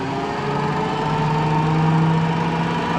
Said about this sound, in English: Spin my throttle up, got it in neutral, and this is about I'm gonna spin it up to about 1500 RPM.